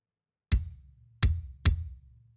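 Punchy kick drum layered with a triggered sine wave adding low end in a metal mix, four solid hits in an uneven pattern, each with a sharp attack and a sustained deep boom, alone with no voices.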